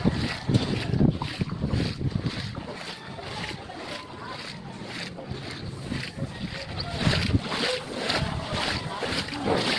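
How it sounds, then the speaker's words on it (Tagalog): Strong typhoon wind roars and gusts steadily across the microphone amid rain, with a person talking intermittently through the buffeting noise. "Yung ambon pa dala sa hangin, no?"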